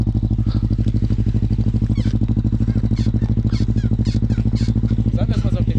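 An Alfarad motorcycle's small engine chugs in a fast, even run of pulses while being ridden, loud and close, with someone talking over the steady throb.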